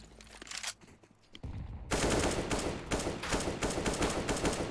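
Rapid sustained gunfire fills a Counter-Strike match, loud dense bursts of automatic weapons spraying into a garage area after a quieter opening second or so, with the shots continuing without pause.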